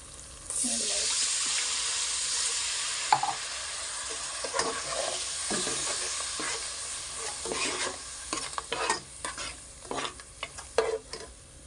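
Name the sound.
stirring frying chilli masala in a pan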